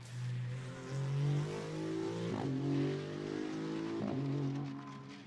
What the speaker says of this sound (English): great noises that these GT2 cars make